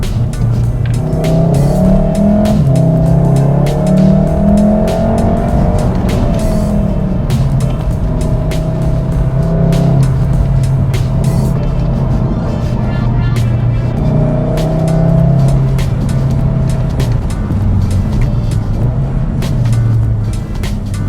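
A VW Mk7.5 Golf R accelerates hard through several gear changes, its engine note climbing and dropping, then drives on steadily. The engine roar is loud and close for the whole stretch, with no talk over it.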